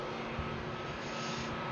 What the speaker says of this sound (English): It's an Airbus 320,